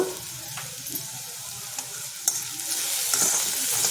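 Calzone filling seasoned with salt and pepper is stirred in a hot pan, giving a soft continuous sizzle with scraping strokes and a couple of light utensil taps close by.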